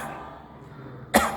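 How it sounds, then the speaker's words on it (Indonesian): A single short cough bursts out near the end after a quiet pause, close and fairly sharp. "Batuk."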